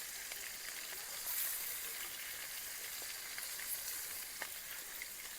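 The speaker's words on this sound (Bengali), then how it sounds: "আর যেগুলো আছে একবার ভেজে নেব।" Large tangra fish fry in a generous amount of hot oil, giving a constant fine sizzle with scattered crackles and pops, close-up and fairly quiet, with no talking.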